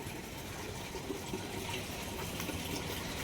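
Heavy rain falls in a steady, dense wash of hissing water noise, fairly soft and continuous from start to end, with no voices.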